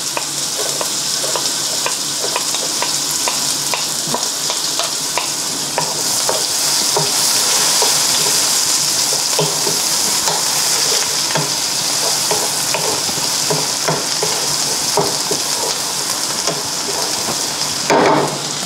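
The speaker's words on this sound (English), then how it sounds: "Saute two medium-sized onions that have been sliced" Two coarsely sliced medium onions sautéing in a pan, a continuous loud sizzle with frequent rhythmic scrapes and taps of a utensil stirring, no talk.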